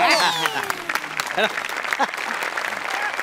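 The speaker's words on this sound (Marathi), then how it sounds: "मी टाळ्या वाजव ना मॅडम साठी" A studio audience at a Marathi comedy show claps for a performer. Dense, steady applause fills the whole stretch while voices carry on over it.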